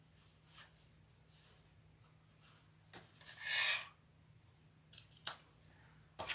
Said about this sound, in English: Now, I am going to trim these corners just to keep them from being too bulky.